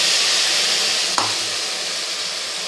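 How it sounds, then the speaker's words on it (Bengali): Poppy seed paste fries in oil with fried pointed gourd, a steady broadband sizzle that holds loud and close for the whole moment, with one brief stir clack partway through. "এখন এটাকে একটু ভেজে নেবো ভালো করে"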